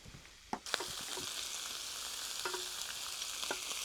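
A burger patty fries in a hot cast-iron skillet, giving a dense, continuous loud sizzle with a couple of sharp utensil clacks near the start.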